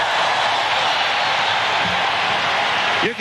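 Loud, steady roar of a packed stadium crowd at a football game, broadband and unbroken for the whole stretch, with a brief voice cutting in near the end.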